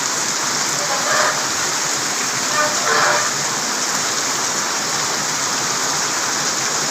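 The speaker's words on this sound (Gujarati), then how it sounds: "જો કેટલો વરસાદ ચાલુ છે અત્યારે." Steady heavy rain hisses loudly and evenly nearby, with a couple of faint brief tonal sounds rising over the pour.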